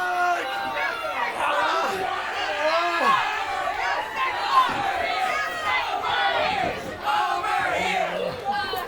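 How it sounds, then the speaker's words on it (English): A crowd at a Tank Gauntlet event roars, cheers and shouts for more in a loud, surging clamour, with individual yells rising and falling over a constant babble of voices. "The crowd calling for more."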